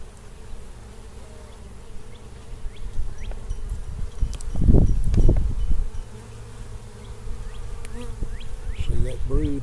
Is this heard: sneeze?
no